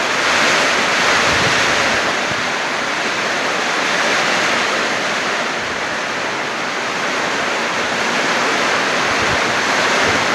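Heavy rain has just begun in a strong wind, a loud, dense and steady wash of broadband hiss that never lets up and swells slightly in places, with no voices over it.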